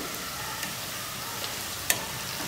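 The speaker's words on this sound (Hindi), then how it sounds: "इसको हमें फ्राई करना है आलू को।" Coated raw potatoes frying in hot oil over a medium gas flame, making a soft, continuous bubbling sizzle with a few faint clicks, heard alone without talk.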